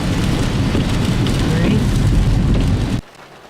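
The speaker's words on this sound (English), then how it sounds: "Can you hear the rain, people?" Steady, dense rain drums on the roof of a broken-down car sitting parked at night with the engine off, heard from inside as a loud continuous hiss that abruptly cuts quieter near the end.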